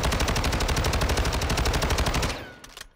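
STB 556 assault rifle in Warzone 2.0 firing one sustained full-auto burst of rapid, evenly spaced loud shots that stops abruptly, followed by brief echoing tail and a couple of faint clicks.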